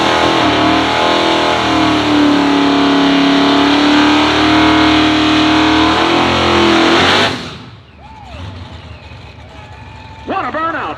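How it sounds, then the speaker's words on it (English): Truck roaring through a burnout at a truck racing event, engine loud and sustained at high revs for several seconds before cutting off abruptly, followed by quieter background noise and a brief rise near the end. "What a burnout from Steve Penrod, truck construction worker from Indiana"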